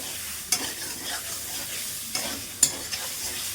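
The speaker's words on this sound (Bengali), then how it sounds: "আলুগুলো দিয়ে দেবো এর মধ্যে।" Potatoes go into spices frying in oil and get stirred: a soft steady sizzle carries a few sharp scrapes and clacks of the spoon against the pan at irregular moments, nearby and unaccompanied by talk.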